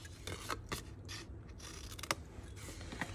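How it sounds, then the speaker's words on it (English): Scissors snip the corners off a paper gift card holder as several short, quiet crisp cuts spaced unevenly, with faint rustling of the paper between them. "first thing I'm gonna do is cut off the corners"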